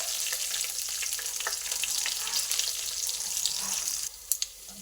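Cumin, mustard seeds, curry leaves and green chillies frying in hot oil, a steady close crackling sizzle throughout that drops away near the end with a couple of sharp clinks.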